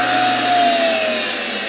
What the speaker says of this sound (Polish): w tym położeniu skali na regulatorze ten silnik już powolutku pracuje